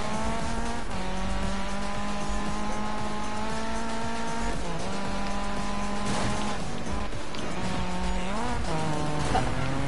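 Race cars in Need for Speed roar loudly and steadily throughout, engine tones rising and dropping with gear changes, with brief tire squeals mixed in and no talk.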